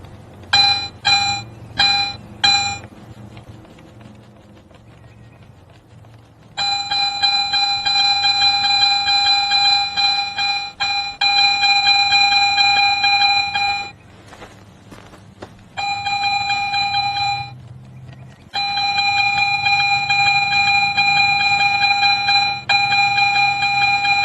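A Garrett metal detector sweeps back and forth over a buried target, sounding a loud, clear electronic tone in repeated bursts: a few quick beeps at first, then long sustained tones broken by short silences.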